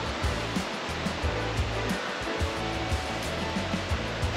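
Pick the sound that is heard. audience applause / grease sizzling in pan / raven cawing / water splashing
water splashing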